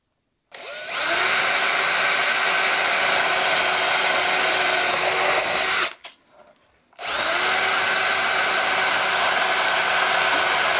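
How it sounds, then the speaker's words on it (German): A power drill bores a 6 mm hole, whining loudly at a steady pitch for about five seconds, stopping briefly, then starting again for another long steady run, close and alone. "Da bauen wir jetzt ein 6 mm Loch rein."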